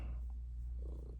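A cat purrs close up in a steady low rumble for just over a second, with no talking over it.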